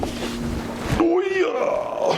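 Kawasaki KLR650 carbureted motorcycle engine firing up, a brief cranking burst followed by a sudden rumbling catch and uneven idle, heard close and loud with the engine sound rising and falling.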